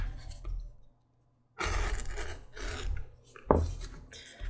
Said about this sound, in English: I'm just beveling the opening of the sheath at the top.